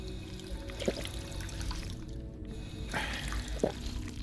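Water in the video game Fallout 4, survival mode: soft liquid trickling and dripping with a couple of brief splashy bursts, moderately quiet against a steady game ambience.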